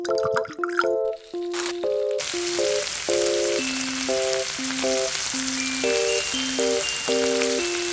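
Miniature chicken pieces coated in crushed Hot Cheetos and Takis fry in cooking oil, a steady close sizzle running throughout beneath a bright plucked melody.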